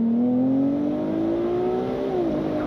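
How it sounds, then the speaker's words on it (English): A Ferrari 296 GTS with its V6 engine drones steadily, the pitch slowly climbing under light acceleration before dropping off near the end, close and continuous with no talk. "Do you like the sound of the 6-cylinder?"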